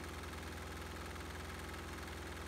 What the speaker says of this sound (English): So this engine obviously runs fine on diesel fuel